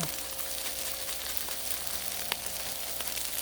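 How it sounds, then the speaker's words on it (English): Chopped dehydrated onion sizzles on a hot Blackstone griddle alongside smash burgers, a steady, close crackling hiss with small pops throughout and no voices. "I'm adding some chopped dehydrated onion because I can."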